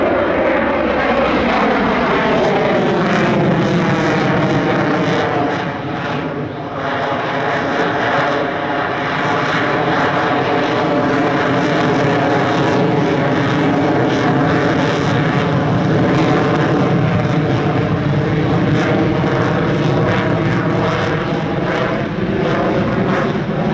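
A fighter jet roars loud and sustained while holding a slow, high-angle Cobra Stance in near-level flight at the LIMA Langkawi airshow, its engine tone steady and droning with slight swells.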